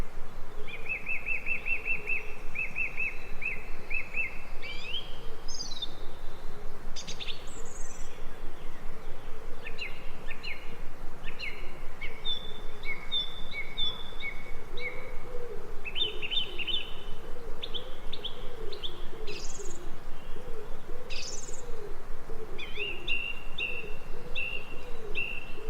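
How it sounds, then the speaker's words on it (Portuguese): Birds chirp, tweet and coo in a forest near an indigenous village, scattered calls repeating over a steady hiss of insects and air, fairly distant with no talk. "Conseguiram ouvir o vento? Ouviram a floresta? Os pássaros?"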